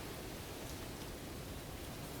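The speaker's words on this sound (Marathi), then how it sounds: "पाऊस तर भरपूरच पडतोय" Heavy rain pours steadily during a mud-crab catching outing in the Konkan, a dense, even hiss that stays constant without pause or voices.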